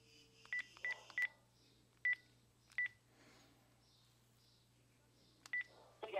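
An Alexa Echo device places a phone call, sounding a series of short touch-tone dialing beeps in quick clusters and pairs, followed by a final burst, over a steady low electrical hum with no talking.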